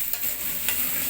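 Chopped onion with green and dried chilies frying in oil in a pan, a continuous hissing sizzle broken by a few stirring scrapes, close and steady.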